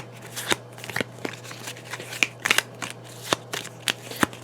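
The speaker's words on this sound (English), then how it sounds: "then we're going to shuffle those up" Playing cards are shuffled by hand in a quiet room, a loose series of crisp riffles and sharp papery snaps at an uneven rhythm, close and moderately soft over a faint steady hum.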